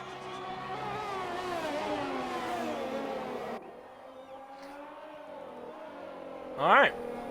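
On board a formula race car lapping Silverstone in a racing game, the engine whines and revs loud up front, then falls quieter and lower, with a sharp rising chirp near the end.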